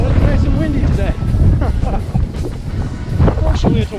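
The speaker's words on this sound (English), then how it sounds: "it's nice and windy today" Warm wind buffets the microphone during an outdoor hill run, a heavy low rumble of gusts under someone speaking continuously.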